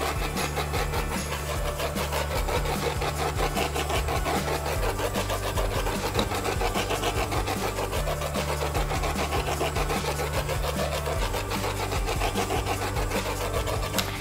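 A cup turner spins an epoxy-coated tumbler, giving a steady close mechanical whir with a faint rhythmic rubbing texture and low motor hum that continues evenly throughout, with no talking.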